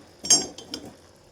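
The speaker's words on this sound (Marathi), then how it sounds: "पातेलं ठेवूया," A metal cooking pot is set down on the stove while making mushroom masala, giving a sharp clink and a second lighter clatter close by in a quiet kitchen.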